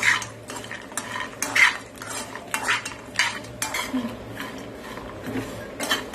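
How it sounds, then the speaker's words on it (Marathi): Pistachios sizzle softly in hot ghee while a spoon scrapes and clinks against the pan in repeated stirring strokes, close by. "आता आपण हे भाजून घेणार आहोत साजूक तुपात"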